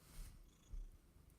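A cat named Leo purrs softly and close by, a low rumbling pulse with two stronger swells in quick succession, quiet and without talk.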